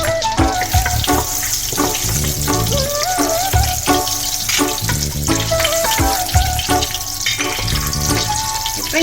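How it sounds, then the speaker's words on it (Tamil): Butter melting with cooking oil in a pan for paneer gravy, giving a steady, close frying sizzle that runs continuously, broken by occasional clinks and scrapes. "பட்டரை போட்டுட்டு பட்டர் மெல்ட் ஆகும்போது கொஞ்சம் போல் குக்கிங் ஆயில் சேர்த்துக்கிறேன்"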